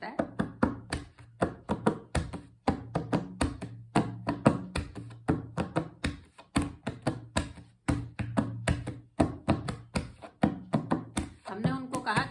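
Dholak drum played with closed bass strokes in a Punjabi bhangra rhythm, close and dry, a steady run of quick muted hits with a low thudding tone and no pauses.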